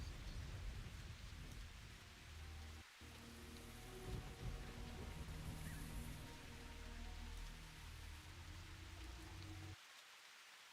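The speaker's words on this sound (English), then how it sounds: "Is that rain?" Steady rain in a video game, a dense broadband hiss of falling drops that holds evenly for about ten seconds before cutting off abruptly near the end.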